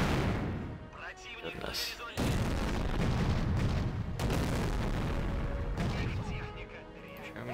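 German guns and artillery firing in a World War II tank strategy war video game, repeated heavy booms and rumbling blasts filling the scene loudly, with someone briefly speaking over the barrage.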